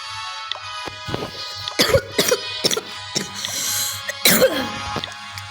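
Someone coughs repeatedly in harsh, irregular bursts with some throat clearing, close and loud, several sharp hacks spread across the stretch.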